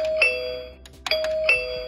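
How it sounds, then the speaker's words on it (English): A toy Barbie Totally Real House doorbell chime, triggered by a button beside the front door, plays a clear electronic two-note ding-dong several times in close succession, loud and alone. "you get the doorbell sound."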